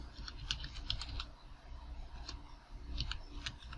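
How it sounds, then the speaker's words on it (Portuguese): Computer keyboard typed on while entering a Git Bash command, soft scattered key clicks in short bursts, quiet and close over a low background hum, no talk. "abrir o Git Bash e digitar composer"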